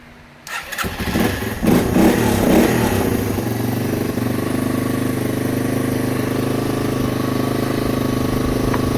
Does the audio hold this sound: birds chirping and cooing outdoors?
no